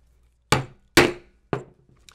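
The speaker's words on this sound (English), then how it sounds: "I use a number 11 Weaver Master Tools punch for these holes." Three sharp, loud knocks of a number 11 Weaver Master Tools hole punch being struck through leather for a wine tote flap, spaced about half a second apart, close and without talk.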